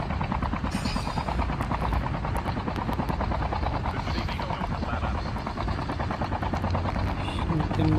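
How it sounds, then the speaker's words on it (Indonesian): A video-game helicopter comes under fire: its rotor thrums loud and constant throughout, while sharp, scattered shots crack over the droning engine. "Menembak sama helikopter lagi."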